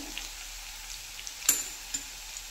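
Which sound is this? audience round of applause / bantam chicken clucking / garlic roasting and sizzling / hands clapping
garlic roasting and sizzling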